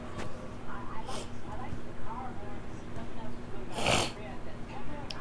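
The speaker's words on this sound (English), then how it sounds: "why'd you have to sniffle like that?" A single short, sharp nasal sniffle sounds close to the microphone partway through, amid ongoing talking and other low background noise.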